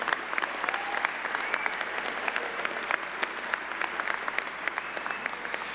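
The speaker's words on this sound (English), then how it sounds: "How about a round of applause for your parents, your support," A large outdoor high school graduation audience claps steadily for the graduates' parents, a dense, even wash of applause with scattered sharp individual claps that holds at a constant level throughout.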